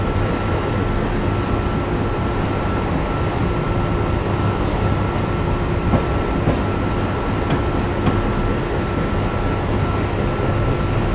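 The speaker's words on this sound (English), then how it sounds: "I think I have the Pennsylvania Railroad GG1." A Pennsylvania Railroad GG1 electric locomotive runs in a train driving video game, giving a steady, loud rolling rumble with a constant hum, faint rail clicks and a few brief squeaks throughout.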